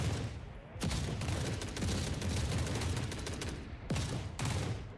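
Sniper gunfire in the video game The Forever Winter, with loud sharp cracks at the start and near the end amid a sustained, noisy roar of combat.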